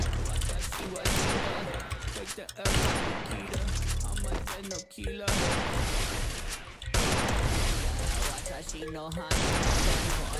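Dense bursts of automatic gunfire from the video game Free Fire rattle on almost continuously, loud and close, with brief gaps between volleys and a voice talking excitedly over the shooting.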